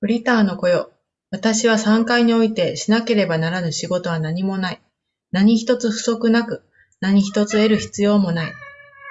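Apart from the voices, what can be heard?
No everyday noises stand out.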